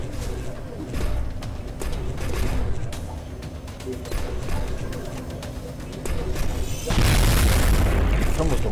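A double shotgun blast in the XCOM video game: heavy booming gunfire bursts, with a loud sustained blast near the end, under game ambience and some background sound.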